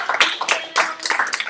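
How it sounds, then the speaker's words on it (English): A few people at a freshman seminar discussion give a short, scattered round of applause, the claps coming in uneven bursts close by. "Let's give it a round of applause."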